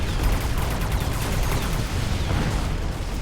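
Dense, continuous volley of AA barrage missiles launching in the strategy game Mechabellum, a loud unbroken roar of overlapping blasts and whooshes with no pauses.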